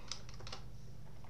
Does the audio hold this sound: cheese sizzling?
no